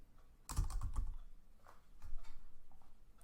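Someone types a name on a computer keyboard, producing a quick burst of close, crisp key clicks followed by a few scattered taps, quiet, with no talking.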